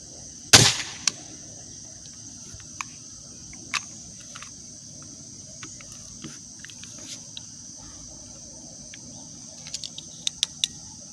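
An air gun loaded with round balls fires a single sharp, close crack near the start, followed by a quiet outdoor background of chirping crickets and a few faint ticks.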